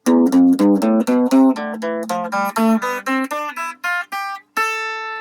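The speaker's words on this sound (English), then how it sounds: "That's all it is. That's a major scale anyway." A single instrument plays a major scale one note at a time, each note distinct and evenly spaced, climbing steadily upward.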